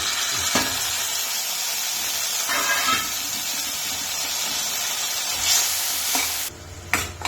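A tomato hits hot oil in a pan for okra palya, setting off a loud continuous sizzle with bursts of spattering and stirring scrapes, the frying dropping away sharply near the end.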